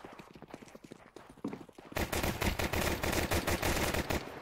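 Glock pistol fire in Counter-Strike 2 on the Dust2 map: quiet clicks and movement at first, then a sudden loud stretch of rapid, closely spaced shots that runs to the end.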